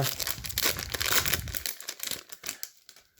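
A Magic: The Gathering Mystery Booster pack's foil wrapper is torn and crinkled open close up, a loud rustling burst that thins into scattered crackles.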